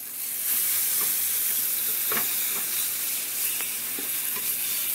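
Bacon strips laid all at once in a pan fry with a dense, bright, constant sizzle and a few soft pops, near and steady, with no talk.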